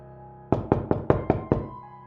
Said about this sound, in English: I received a knock on my door